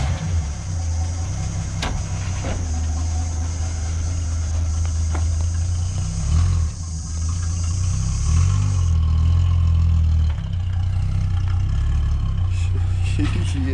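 Ford XW 250 pre-crossflow six-cylinder engine running steadily after sitting unused for 17 years, a loud continuous rumble close by with slight rises in revs and people talking nearby.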